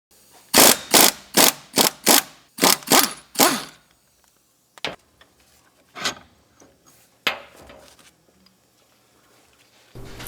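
Ratchet loosening the toe and camber link bolts on a Jeep Grand Cherokee rear air suspension, eight quick, loud, evenly spaced ratcheting clicks up close, then a few scattered metallic knocks and clanks.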